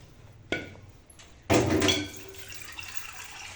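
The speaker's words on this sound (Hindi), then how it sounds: "पानी इसके अंदर हम और काफ़ी क्वांटिटी में थोड़ा सा डालेंगे।" Water poured into a pot of chopped ingredients for masoor dal and rice: a short splash, then a louder gushing pour lasting about half a second before settling into faint trickling.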